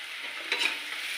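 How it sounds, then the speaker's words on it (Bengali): Onions fry with salt in a pan, making a brief, steady hiss of sizzling oil with a slight swell as they are stirred. "একটু ভালো করে নাড়াচাড়া করে নিই।"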